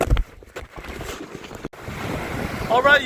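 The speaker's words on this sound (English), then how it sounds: "Too windy, 18-20 mile wind." Strong wind of about 18 to 20 mph buffets the microphone over waves on Lake Lavon during a white bass fishing outing, a steady rushing roar with gusty swells and a brief dropout midway.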